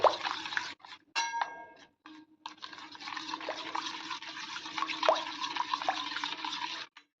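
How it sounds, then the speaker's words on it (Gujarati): Salt, sugar, lemon juice and spices for a methi gota batter get stirred with a spoon in a bowl, producing close, steady scraping and wet swishing, punctuated by metallic clinks of spoon against bowl, with no talking. "હવે આપણે આ બધું સારી રીતે મિક્સ કરી લઈશું"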